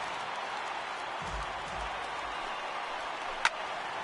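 A baseball stadium crowd of over 39,000 applauds in a baseball video game, a steady wash of distant clapping and cheering with a sharp tick near the end.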